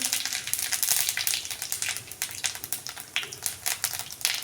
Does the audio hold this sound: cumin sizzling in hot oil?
yes